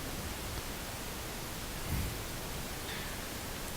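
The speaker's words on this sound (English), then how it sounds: "Pink noise is something you would use as a benchmark." Steady, uniform pink noise test signal used for audio benchmarking, a broadband hiss spread evenly across the spectrum, holding constant level throughout with no other sounds.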